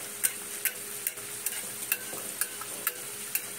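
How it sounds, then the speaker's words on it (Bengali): Hot oil is spooned over aloo paneer samosas shallow-frying in a pan, giving a steady soft sizzle punctuated by regular light scraping taps of the spoon, close and unaccompanied by talk. "গরম তেলটা উপরে ছিটিয়ে ছিটিয়ে দেবে"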